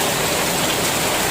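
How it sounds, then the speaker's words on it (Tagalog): Rain falls as a steady, dense hiss with no gaps, loud and close throughout, and no voices are heard. "Nababasa na ng ulan."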